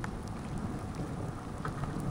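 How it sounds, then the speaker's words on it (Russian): Heavy rain with large drops falling outdoors during a bicycle ride, a dense, steady patter with a low rumble of thunder underneath, close and continuous without speech. "такие крупные капли, хорошие такие. Сейчас меня промочит основательно."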